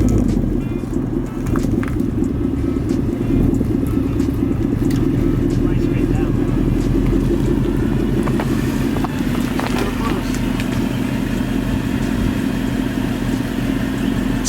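A lowered car creeps forward at a crawl as the driver gently feathers the throttle, a steady low engine rumble running throughout with wind buffeting, while people talk nearby.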